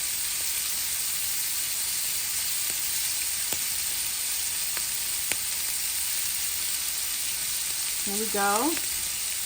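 Shrimp sizzle in a crowded, slightly too-small pan at home, a steady close hiss of frying with a few faint clicks and a brief voice near the end.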